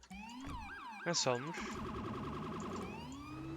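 Police siren from the video game GTA 5, wailing and yelping in rising and falling sweeps that stay loud throughout, with a short burst of a brighter electronic tone near the middle and a brief voice at the start.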